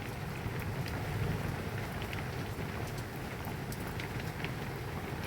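Steady rain falling outside during a storm, a dense, even hiss with scattered drops, close and continuous with no talk.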